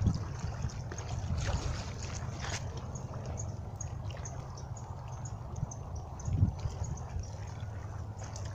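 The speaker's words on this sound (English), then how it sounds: "Listen to the water." Water flows steadily outdoors at sunrise, a faint, even wash over a low rumble, continuous for the whole stretch with no one talking.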